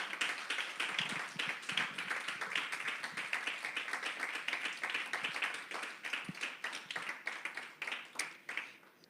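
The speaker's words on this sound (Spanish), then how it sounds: "Den un aplauso al Señor." A church congregation claps together at a Sunday service, with a sustained run of dense, fairly distant applause and a few sharper individual claps, heard without speech.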